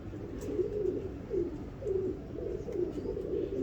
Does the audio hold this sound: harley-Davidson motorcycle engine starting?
no